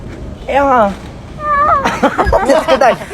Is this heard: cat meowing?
yes